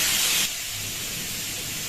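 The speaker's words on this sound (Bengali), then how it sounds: "এখন কুমড়োগুলো দিয়ে দিলাম, নুন, হলুদ দিয়ে নাড়াচাড়া করে ভেজে রাখবো" Pumpkin pieces hit hot oil with salt and turmeric, letting out a sharp loud hiss for half a second before settling into a quieter steady sizzle.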